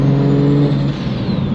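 A BMW 135i fitted with an E92 M3 rear end idles with a steady, loud rumble close by, holding an even engine tone throughout and giving no clear rev climb.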